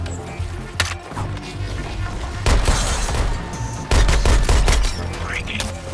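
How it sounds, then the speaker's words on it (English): Gunfire rattles through combat in the Suicide Squad: Kill the Justice League video game, with repeated loud bursts and heavy booming impacts close by, under game character voices. "Bringing fire down on Joker!"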